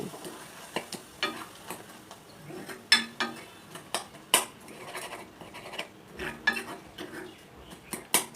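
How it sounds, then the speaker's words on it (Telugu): Gongura leaves with salt and turmeric being mashed and mixed in a vessel, heard as irregular close scraping and clinking knocks of a utensil against the pot at an uneven rhythm, with quiet gaps between. "రుచికి సరిపడా ఉప్పు కొద్దిగా పసుపు కూడా వేసుకుని గోంగూరని మెత్తగా మెదుపుకుంటూ కలుపుకోవాలి"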